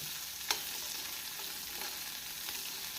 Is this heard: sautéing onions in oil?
yes